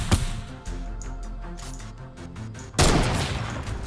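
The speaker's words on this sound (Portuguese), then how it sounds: "Eu tô atirando em vão, tá?" Fortnite gunfire, with a short sharp burst followed by a steady stream of rapid shots. A louder, denser volley breaks out near the end.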